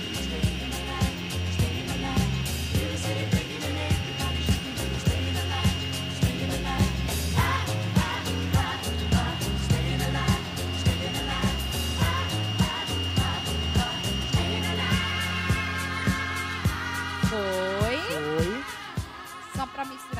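An electric mixer beats cream for a cuca de uva, a Brazilian grape crumb cake, giving a steady high motor whir throughout, mixed with rhythmic background music and occasional voices.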